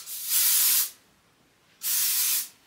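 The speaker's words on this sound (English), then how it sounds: "take this texture spray and spray it under the layers of my hair" Two close, loud hisses of texture spray aimed under layers of hair, each lasting about half a second with a short pause between bursts.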